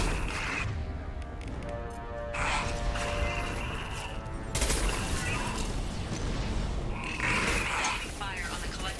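Sustained gunfire from a space battle in Mass Effect Legendary Edition, steady and continuous over game music and effects, with people talking throughout.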